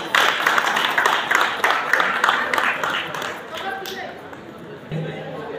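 Guests at a baby shower give the couple a round of applause, a fairly loud burst of clapping that thins out after a few seconds as a voice and some faint clatter follow.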